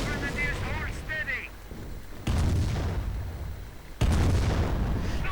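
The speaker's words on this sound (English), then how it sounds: "Nebelwerfer's firing away" Nebelwerfer rocket artillery fires in a war video game, with two heavy, close booms that each ring out and decay after a stretch of talking.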